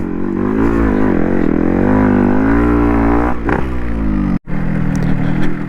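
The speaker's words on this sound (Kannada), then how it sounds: "ಫಾರೆಸ್ಟಲ್ಲಿ ನಾನು RX ಜೊತೆಯಲ್ಲಿ ಹೋಗ್ತಾಯಿದ್ದೀನಿ, ಆಫ್ ರೋಡ್ ಟ್ರಯಲ್ಸ್ ಮಾಡಿಕೊಂಡು" A Yamaha RX 135 motorcycle rides along a forest off-road trail, its engine a loud, close, continuous drone that rises and falls slightly, broken by one brief dropout near the end.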